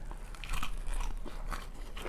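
Close, crisp crunching of a homemade crunchy chicken sandwich being bitten and chewed, several quick crackly bites in a row with no talking.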